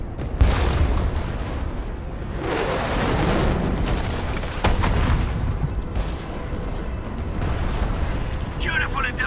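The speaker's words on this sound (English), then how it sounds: "The UWST will fire at where you've marked." UWST artillery strike firing on a marked target in the Arknights Endfield video game, heavy booming impacts and rumbling blasts spread through the stretch, loud and close, with speech running over them.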